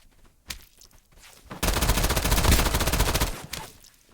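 Rapid electrified-bullet gunfire in the video game Escape from Duckov: a single shot, then a dense automatic burst of about two seconds, loud and close, with no talk.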